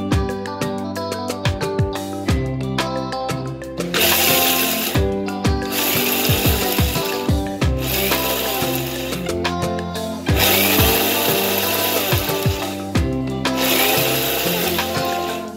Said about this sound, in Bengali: এখন আমি এগুলিকে ব্লেন্ড করব। 2-3 বারে আমি এগুলিকে ব্লেন্ড করব।